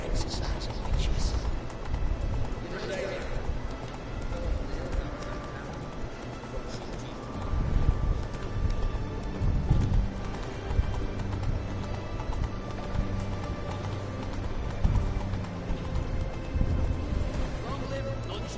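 Roach the horse gallops in The Witcher 3 video game, with steady clip-clop hoofbeats running throughout, an occasional whinny, and game ambience and voices layered over the hooves.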